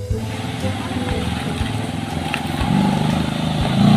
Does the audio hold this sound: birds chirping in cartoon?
no